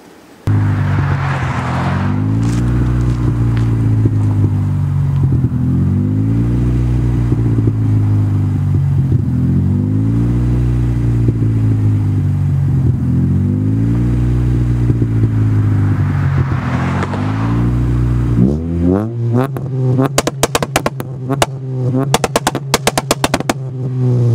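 A car engine revs hard in repeated rising and falling surges while cruising at night. It then drops into a rapid, loud string of crackling pops and bangs as the exhaust backfires flames, close and with no talk.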